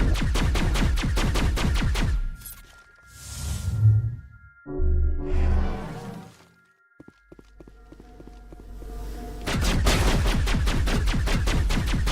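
Rapid gunfire from a weapon in Mass Effect Legendary Edition rattles in sharp regular bursts at the start and again near the end, with scattered thuds and softer movement sounds in the quieter middle.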